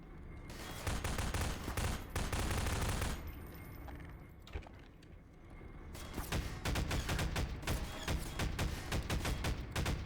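The player's weapon in the video game Half-Life 2 fires loud rapid automatic bursts, a dense volley at first, a brief lull, then more staccato shots clattering close and continuous.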